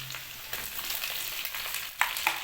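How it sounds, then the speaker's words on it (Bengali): Ginger garlic paste hits a hot pan while cooking chicken liver, giving a steady close sizzle with light stirring scrapes and a couple of brief clinks, and no voices. "আদা রসুনের পেস্ট দিচ্ছি।"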